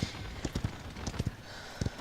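Horse hooves beat in quick, uneven clusters in the video game Paladins, a faint clip-clop gallop over a steady background hiss, with no voices.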